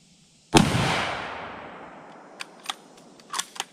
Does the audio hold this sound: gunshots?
yes